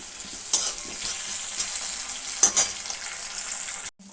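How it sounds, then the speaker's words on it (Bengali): Garlic, onion and tomato sizzle steadily in hot oil in a wok, a continuous hiss broken by a few sharper scrapes of stirring, close and unaccompanied by speech. "এদিকে কড়াইয়ে তেলের মধ্যে আমি দিয়েছি রসুন, পেঁয়াজ আর টমেটো। এখন এগুলো লাল লাল করে ভেজে নেবো।"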